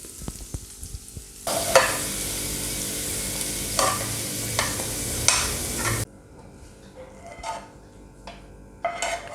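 Chicken sizzling loudly in a frying pan while a utensil stirs and scrapes it, then the frying drops off abruptly as the flame goes out and pieces are lifted out with soft clinks.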